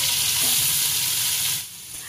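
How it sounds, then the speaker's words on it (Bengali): Prawns hit hot oil left over from frying potatoes, giving a loud, steady sizzle and crackle that fades off near the end, with no talking. "এবার ওই তেলেই চিংড়ি মাছগুলো ভেজে নেব"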